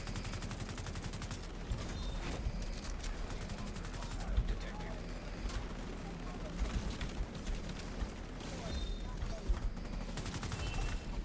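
Rapid automatic gunfire in the video game The Division 2, dense sustained bursts with muffled impacts, heard under a player's voice talking.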